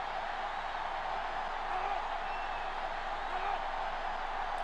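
A stadium crowd in NCAA Football 06, at a game in Davis, California, roars in a steady, dense wash of cheering with faint whoops rising through it. No commentary sits on top.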